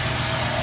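A 2009 Chevrolet Silverado pickup idles steadily with its hood raised, producing a continuous, even low rumble close by with no voices over it.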